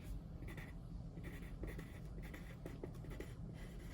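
A pen or pencil writes on paper close up, making soft rhythmic scratching strokes in short repeated bursts over a faint background hum.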